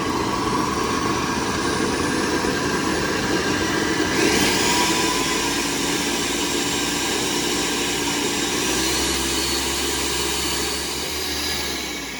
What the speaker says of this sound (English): Make sure to always start blending, especially when blending hot stuff, on a low speed, and then gradually increase it until the highest on your blender.